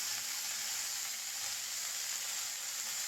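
Fresh mint leaves sautéing in a hot pan for mint chutney, a steady bright sizzle and hiss that holds evenly for the whole few seconds, close and alone.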